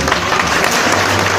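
Dense, steady applause from a crowd at a Banjara Teej song gathering, honouring Sheetal Chavan, filling the short moment at full loudness with no break.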